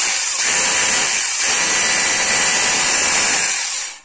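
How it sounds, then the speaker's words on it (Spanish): A Hilti cordless drill on a restored TE S-A36 battery whirs at a steady high pitch for several seconds, briefly dipping twice, then spins down at the end. "y le damos al taladro"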